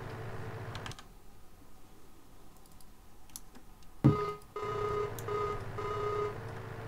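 A phone call rings out in the farming video game Real Farming, with a short ringing tone, a gap, then a longer ringing burst amid light clicking.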